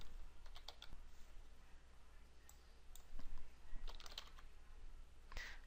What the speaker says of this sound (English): I enter Ed's email.